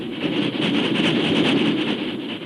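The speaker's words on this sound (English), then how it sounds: "a fast train roared from the east" A train roars by at speed, a loud rushing rumble with rapid rhythmic clatter that holds steady for a couple of seconds.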